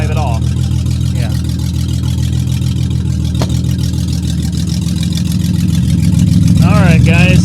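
A 1991 Mercury Cougar with its engine running at a steady low idle as it is eased slowly off a tilted trailer, a continuous mid-level drone throughout with people talking over it.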